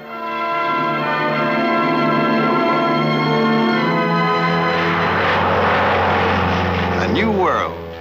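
A light training airplane's propeller engine drones steadily and loud throughout, with someone narrating over it about a first flying lesson.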